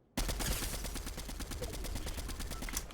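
Rapid automatic gunfire in a Fortnite match starts abruptly and continues as loud, evenly spaced bursts of shots over nearly three seconds.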